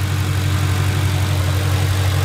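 A 2021 Ford Mustang Shelby GT500 in Grabber Yellow idles on its 5.2-litre Predator engine rated at 760 PS, giving a loud, steady, deep rumble close by with no talk.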